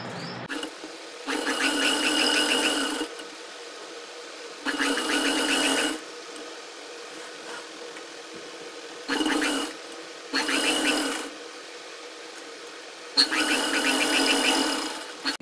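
A sewing machine stitches a neck design onto a dress in several loud, steady bursts of a second or two each, separated by pauses with low background hum and occasional handling.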